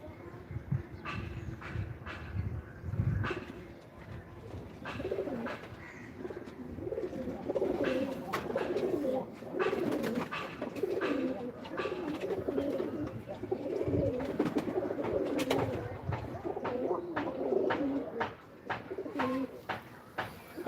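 A pigeon caught in kite string on a rooftop coos repeatedly in soft, throaty phrases, fairly close, over a faint background hum with scattered clicks and no talk.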